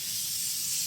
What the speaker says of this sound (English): We'll spray our pan so they don't stick.